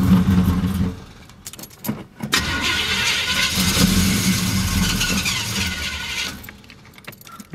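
A supercharged Oldsmobile Cutlass with a minor carburetor issue cranks over with a jangle of keys, catches and revs loudly for several seconds up close, then drops back toward idle.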